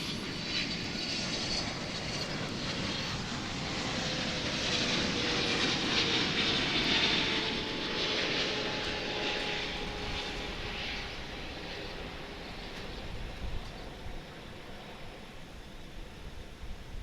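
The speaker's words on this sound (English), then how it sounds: "Yes, Flight 12 coming in from Haneda in Tokyo." A Japan Airlines Boeing 777 arriving from Tokyo Haneda roars past with a strong engine whine that swells to a peak midway and then fades slowly, loud and continuous with no talk.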